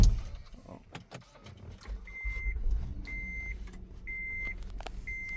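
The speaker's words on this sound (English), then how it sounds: "I'm gonna power up the vehicle" A car powering up for a scan tool check, with clicks and a short thump followed by a series of four evenly spaced electronic beeps under a low idle rumble.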